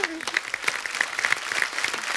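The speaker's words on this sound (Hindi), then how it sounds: "एक बार जोरदार तालियां हो जाए।" A studio audience at a comedy talk show breaks into loud, dense applause, many hands clapping together steadily and close, with a voice speaking over it briefly at the start.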